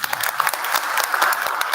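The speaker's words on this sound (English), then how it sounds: "please join me in giving a resounding round of applause to the brilliant Professor Sudeshna Sinha" Audience applause for Professor Sudeshna Sinha before a lecture on chaos and noise, a brisk, even patter of many hands clapping in a hall, continuous and fairly loud with no speech over it.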